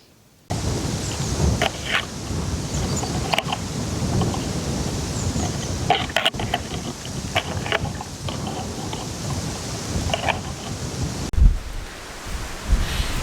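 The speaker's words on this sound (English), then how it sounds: "It's super windy" Strong wind roars and buffets the microphone continuously outdoors at a cabin build site, with gusty rumbling bursts and no talking.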